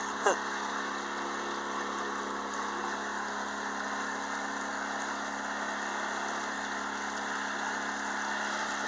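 A work barge carrying a backhoe, used by gold dredgers, with a steady mid-pitched engine drone held evenly throughout, one brief knock near the start.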